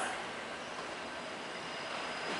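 Steady broadband rumble of a six-car JR train arriving at a Japanese station, with a faint high whine, continuous and fairly close throughout.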